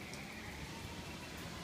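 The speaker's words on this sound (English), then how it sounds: "What's this called? Monsoon rain." Monsoon rain falls in a steady, soft hiss of drops on surfaces, fairly faint and even throughout, with no voices.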